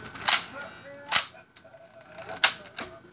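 A Nerf Z-Strike Vortex Fusefire blaster being fired and cocked: several sharp, close clicks and snaps spaced irregularly, with faint background hum and no talk.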